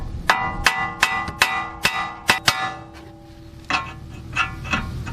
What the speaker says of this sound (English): Other times you need to give them a little bit of a whack here.